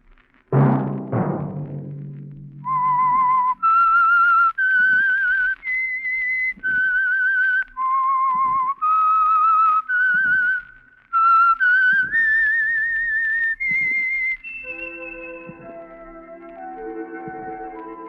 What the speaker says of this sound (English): Let that whistle be your signal for the Signal Oil program, The Whistler, each Sunday night at the same time.